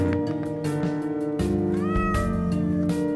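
Cats meowing in the pixel-art adventure game OneShot, several drawn-out, wavering meows close and clear over a sustained musical tone.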